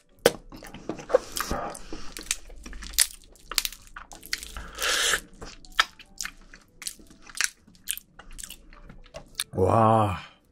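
Marinated spicy crab is eaten up close, with irregular wet crunching, chewing and slurping bites separated by short pauses, and one louder burst near the end.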